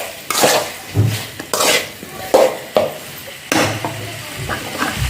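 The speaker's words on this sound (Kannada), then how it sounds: "ಉಪ್ಪು ಹಾಕಿ ಒಳ್ಳೆ ಮಿಕ್ಸ್ ಮಾಡ್ತೀನಿ" Chicken with salt and masala being stirred in a pan for hotel-style chicken fry: a series of loud, close scraping and clattering strokes of a spoon against metal, repeating every half second or so with a faint sizzle beneath.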